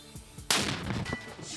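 A single heavy 120 mm mortar blast erupts sharply, followed by a rumbling decay and ringing echo.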